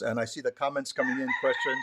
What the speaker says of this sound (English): So if you hear the chickens crowing, those are the ones behind me in the Manoa jungle right over here.